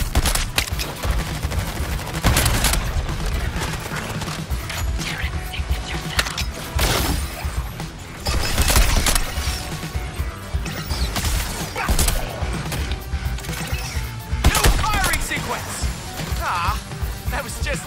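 Rapid bursts of gunfire and crashing impacts from the Suicide Squad video game, loud and dense throughout, layered with game music and effects while a voice talks over the action.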